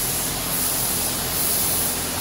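Spray gun applying clear coat to Peterbilt 389 truck parts in a paint booth, a steady loud hiss of atomized spray running continuously with no voices.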